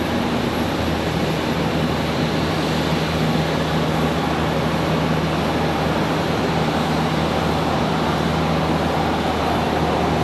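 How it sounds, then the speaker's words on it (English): A heavy Boeing 737 MAX 8 on a long takeoff roll and departure gives a loud, continuous broadband jet roar with a steady hum and no pauses. "Long takeoff roll here for this 7378."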